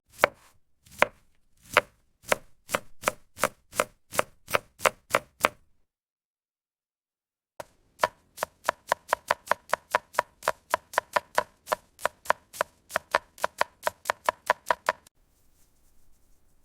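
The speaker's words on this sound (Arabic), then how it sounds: "الكوسة والسبانخ لسه بخيرها، بنقشر ونقطع" Zucchini and spinach being peeled and chopped in a kitchen: a quick run of sharp knife strikes on a board, a pause, then a longer steady chopping series, close and clear with no talk.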